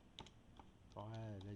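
Typing on a computer keyboard, a few scattered key taps before a brief voice overlaps near the end.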